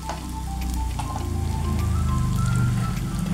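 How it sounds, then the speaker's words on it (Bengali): Chopped onion frying in oil in a pan while an egg dish with spices is cooked, giving a steady, close crackling sizzle that holds without a break, with a low hum underneath and no talk. "দেখুন পেঁয়াজটা প্রায় ভাজা হয়ে গেছে।"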